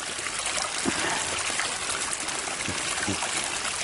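Water pours steadily over a small homemade water wheel built from a soda bottle, a continuous close trickling and splashing with faint irregular knocks as the wheel turns.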